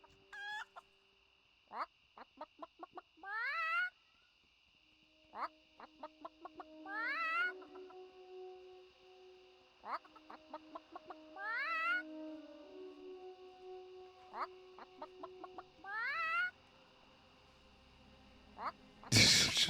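Chicken clucks from the World of Warcraft video game recur in short staccato bursts of about four notes each, repeating steadily over a constant background drone, fairly close and clear, with no talking.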